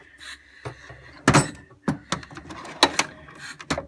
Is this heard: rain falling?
no